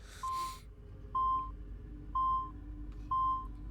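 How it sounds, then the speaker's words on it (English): The glyph locator in the Assassin's Creed 2 video game beeps, four clean, identical electronic tones spaced about a second apart over a faint low hum, with a brief burst of noise at the very start. "listen for that beeping, and the higher, or the... They took it. The more intense the beeping gets"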